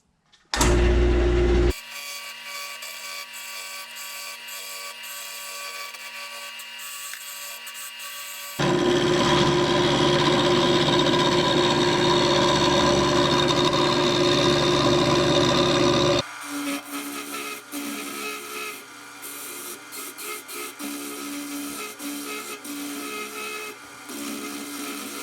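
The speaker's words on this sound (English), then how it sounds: "this gouge type tool seems to be doing a much better job of removing material than that other thing that I forged last time" Forged gouge tool cutting wood on a wood lathe, a steady scraping, rasping drone that shifts in tone and loudness across several passes, close and without talk.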